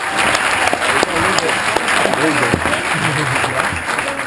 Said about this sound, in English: So please give them a round of applause and thank you.